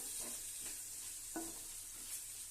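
Masala mixture for Bangalore-style chicken donne biryani being stirred in a pot, with soft repeated scraping strokes under a faint sizzle, close and fairly quiet, with no voices.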